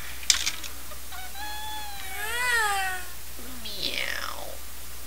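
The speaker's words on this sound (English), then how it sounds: "I mean, that was my cat, Bob Joan." A pet cat gives a drawn-out meow with wavering pitch, preceded by a short sharp click, then a second falling meow, close and clear over low steady background hum.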